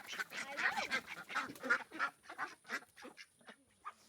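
Several ducks quack nearby in a quick, uneven series of honking calls, fairly loud and clear with no talking.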